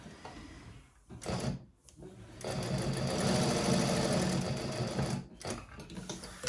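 Close by, a sewing machine runs long gathering stitches across a handbag lining in a sustained rattling whir, with brief clunks and pauses at the start and near the end.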